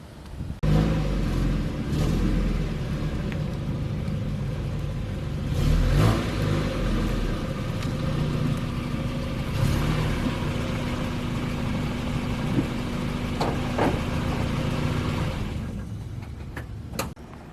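A red Mazda NA Miata's engine runs as the car drives out of a garage, a steady close rumble with slight revs and faint ticking, no voices.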